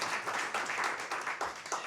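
An audience applauds at a live music session for a band, a steady wash of clapping over about two seconds at a moderate level.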